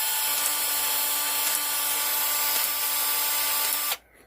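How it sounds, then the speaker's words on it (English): A battery-powered pipe expander tool runs steadily for about four seconds, a loud continuous whir with faint periodic clicks as the anvil jaws open, then cuts off abruptly, alone without talk. "This is called a expander tool."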